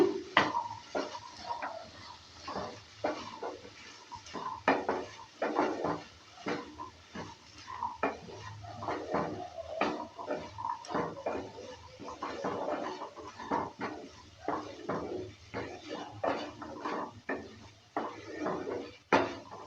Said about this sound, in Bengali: ধনে পাতা কুচিটা দেওয়ার পর ভালো করে আবারও নেড়ে চেড়ে নিচ্ছে